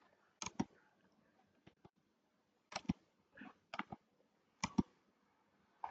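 Quiet computer mouse clicks while working in a Google Sheets spreadsheet, sharp isolated clicks arriving in small clusters of two or three with gaps between, close and faint, no voices.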